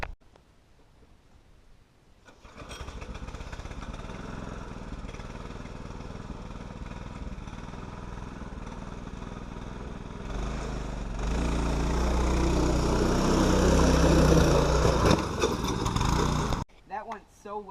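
Small gasoline go-kart engine that pops wheelies and reaches 48 mph, revving steadily up close, then climbing to a louder, harsher roar as the kart drives and jumps before cutting off abruptly.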